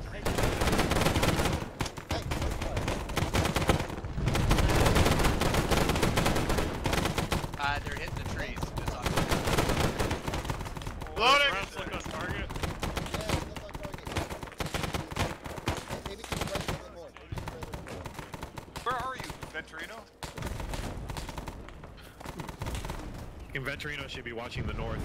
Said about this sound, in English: We got mortars coming in.